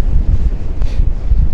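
Strong, cold wind on the ocean coast near Cariló, Argentina, buffeting the microphone, a deep, continuous low rumble with uneven gusts, loud and close, with no voices.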